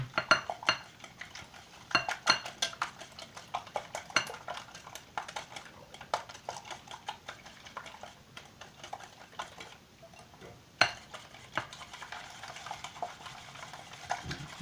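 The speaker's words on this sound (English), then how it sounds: "the cheese is like super stuck in here, but with a little bit more beating" A cheese and egg mixture for a spinach pie is beaten in a bowl, producing rapid, continuous clinking and scraping of a whisk against the bowl, close and busy throughout.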